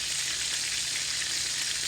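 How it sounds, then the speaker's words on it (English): Chicken wings frying in hot oil for crispy fried wings: a steady, dense sizzle and crackle that holds at an even loudness throughout, with no talking. "I know you can hear the rest of them frying in the background."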